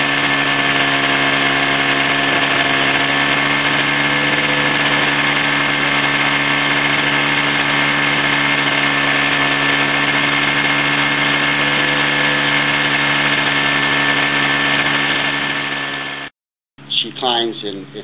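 The two-stroke engine of an Airframes Unlimited Hyperlite powered parachute runs at a steady, loud drone with a strong buzzing harmonic whine for about sixteen seconds, then cuts out briefly before sputtering back.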